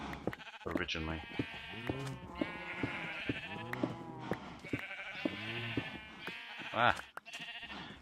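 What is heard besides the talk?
sheep bleating, from a video game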